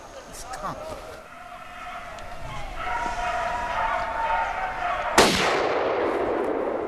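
A single loud gunshot cracks out during a driven wild boar hunt, preceded by rustling outdoor ambience and followed by a lingering noisy tail.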